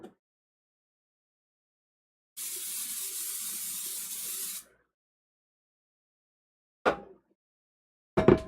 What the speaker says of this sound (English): I'm gonna go ahead and spray my pan and get my parchment paper down